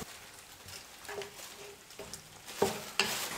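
Chopped coriander is stirred into a pot of mutton kulambu, giving soft intermittent scraping and clinks over a faint, steady sizzle, ending in a couple of sharper knocks.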